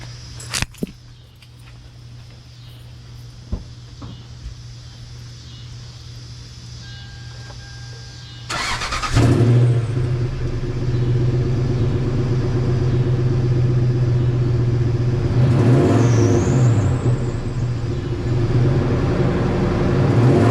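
Toyota 4.7 V8 with a cut exhaust: quiet idle and a few clicks and clanks, then the engine fires and roars into a loud, raspy, close rumble with several revs.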